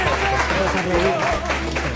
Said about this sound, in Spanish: Venga, vente, por favor, un aplauso, vamos allá